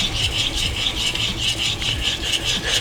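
A santoku knife is drawn over a high-grit whetstone in a steady back-and-forth rhythm of close, gritty scraping strokes that continue without pause, and no one speaks.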